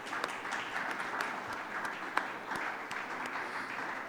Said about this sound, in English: So actually a big round of applause to everyone here for that.